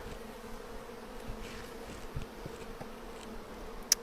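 Soft steady hum of honeybees, drones among them, droning around an opened hive during a split, faint and continuous with a few light knocks and one brief click.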